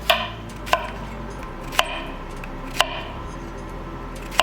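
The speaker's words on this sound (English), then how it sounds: "cut up that beautiful zucchini, squash" A sharp knife chops zucchini on a cutting board, five crisp, evenly spaced strikes with quiet pauses between them, close and clear with no talking.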